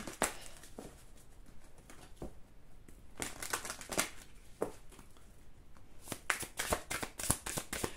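Tarot cards shuffled and drawn by hand, quick riffling and slapping bursts with brief pauses, close but fairly soft, with no talk.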